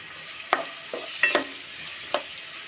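Onions frying in cooking oil in a pan give a low sizzle with a few sharp pops and scraping stir sounds spaced irregularly, close by and fairly quiet, with no speech.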